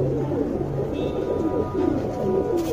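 Pigeons coo nearby in a steady series of soft, throaty, rolling calls, heard alone without any talk.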